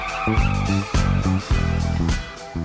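An animated car arrives with repeated tire squeals and skidding bursts over engine noise, loud and close, in several rhythmic surges.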